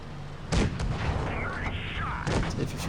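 Tank cannon fire in World of Tanks Blitz, a heavy boom landing early and another near the end over a steady rumble of battle noise and engine drone.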